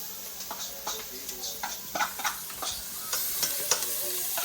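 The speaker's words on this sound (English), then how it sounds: "We're gonna go in with shallots and garlic." Shallots and garlic sizzle in hot butter in a pot, a steady crackling fry with scattered stirring clicks and scrapes, close and moderately loud, no talking.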